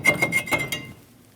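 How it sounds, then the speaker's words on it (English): A brake rotor scrapes and rasps against the hub as it is pulled off a 2001-2006 Chevrolet Silverado 2500 HD, several quick gritty rubbing strokes close by and then fading out. "Remove the rotor."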